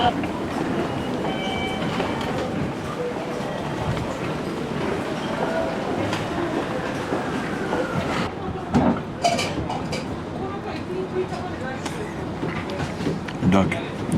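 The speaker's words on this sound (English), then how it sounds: "this is the busiest train station that I'm in right now in the world" A busy train station in Japan gives off a steady rumble of rail cars with clattering and a dense crowd murmur. Occasional sharper knocks and clacks stand out near the end.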